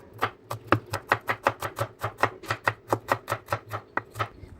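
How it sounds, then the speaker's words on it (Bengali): A knife chops a large onion into very thin slices on a board, a steady rapid series of about twenty crisp close strokes, evenly spaced and alone, with a faint low hum underneath. "আমি এখানে বড় সাইজের একটা পেঁয়াজ নিয়েছি। তো পেঁয়াজটাকে একদম পাতলা পাতলা করে কুচিয়ে নিতে হবে"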